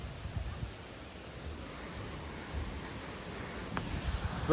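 Steady broadband rush of a waterfall at Jalpari Jharana near Manahari, heard from close by as a continuous, even roar with a brief rise near the end.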